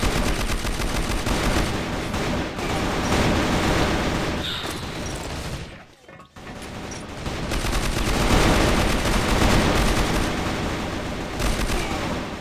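Rapid gunfire from the online shooter CrossFire rattles almost without pause, with bursts and single shots piling up loudly, a brief near-silent gap in the middle, then steady firing again.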